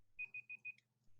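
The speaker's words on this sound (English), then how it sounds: "my timer went off" An electronic timer beeps four times in quick, even succession, then pauses and starts again; clear and close in a quiet room.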